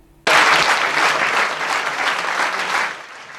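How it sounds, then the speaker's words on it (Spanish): A political audience breaks into sudden, dense applause for the outgoing leader of Izquierda Unida, a loud, sustained wash of many hands that holds steady for nearly three seconds before fading. "Aplausos para reconocer la labor de Cayo Lara"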